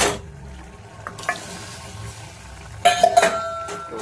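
Potato curry being stirred in a pan, a spoon scraping and clinking against the metal over a soft sizzle, with a few sharper clatters near the end.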